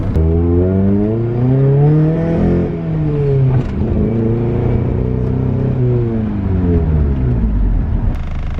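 Honda CRX engine revving hard while driving, a loud steady in-car drone rising and falling through the gears as the revs sweep up and back down several times.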